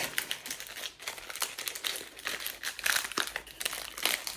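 Close, continuous crinkling and rustling as a Welch's fruit snack label is folded and slid into a bag for a party favor, with irregular crackly bursts throughout and no talking.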